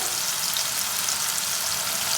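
Sweet baby corn frying in a pan without any cornflour coating gives off a steady, loud, close hiss of sizzling oil, unbroken and with no voices.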